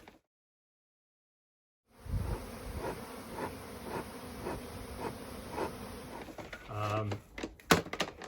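A dense, steady buzz of honeybees swarming close by begins after a short silence, with a person talking over it and a few soft knocks near the end.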